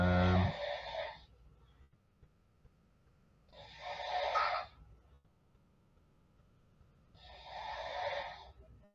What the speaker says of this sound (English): Dang, she is really snoring loud.